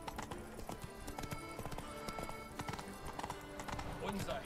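Horse hooves clip-clop in The Witcher 3: Wild Hunt, a busy patter of hoofbeats alongside game ambience, with speech heard over it.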